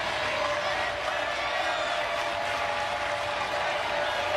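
A crowd cheers and applauds at a college softball game at the Women's College World Series between Oklahoma and Florida, producing a dense, steady roar throughout, with voices likely mixed in.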